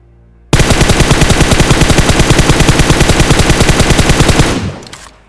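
Sustained automatic gunfire from PUBG Mobile, a rapid, even burst of loud shots lasting about four seconds before cutting off and fading, with no voices over it.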